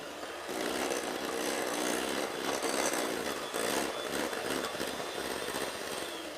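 Electric mixer beating a low-fat mixture with skim milk, a steady dense whirring drone that holds level for several seconds, close and loud with no talk.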